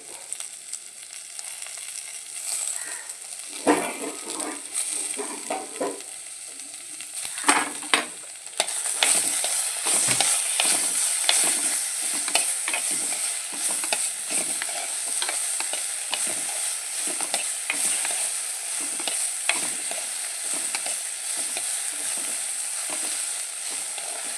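Tomatoes are sautéed in a pan for sambar, a bright sizzle under repeated close scraping and stirring strokes that grow busier after a quieter start, with no one talking.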